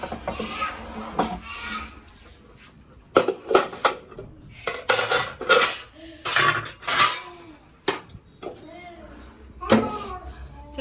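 Plates and dishes clatter as they are taken out and set down for a meal, with sharp ceramic knocks and clinks in irregular bursts amid household bustle and people talking.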